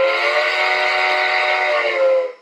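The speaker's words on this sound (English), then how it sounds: "That's actually not a bad whistle either." A steam locomotive whistle from a SoundTraxx DCC sound decoder fitted in a G scale Bachmann Shay plays one steady, loud chord for about two seconds before quickly fading out, with no other sound.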